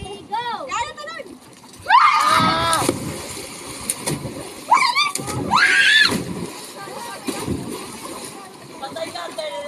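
A person jumps into water, landing with a sharp splash, followed by further splashing and churning amid excited shouting voices nearby.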